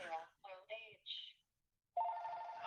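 A telephone rings in short bursts behind a conversation, with a brief gap before the ring resumes loudly near the end.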